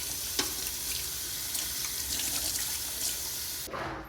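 Tap water runs steadily into a sink as items are rinsed under it, a continuous close splashing hiss that cuts off sharply near the end.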